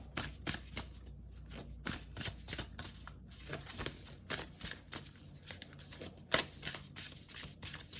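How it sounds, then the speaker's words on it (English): A tarot deck shuffled by hand, a steady run of quick papery riffles and soft card slaps, close and clear with no talking. "So let's shuffle and see what we get."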